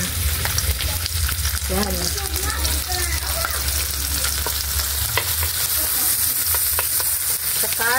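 Dried fish (tuyo) fries in a pan with tomato, giving a loud, continuous sizzle with sharp spitting pops and stirring scrapes. A voice briefly speaks over the frying.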